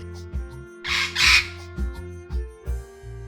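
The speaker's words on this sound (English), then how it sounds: "P for parrot." A bird's shrill squawk for a parrot in a children's alphabet song, two harsh bursts close together over a bouncy musical backing.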